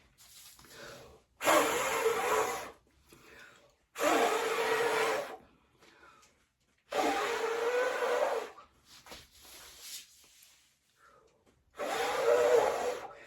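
Someone blowing hard through regular house paint for a poured paint design, four long strong breathy blows separated by quiet gaps, close and loud.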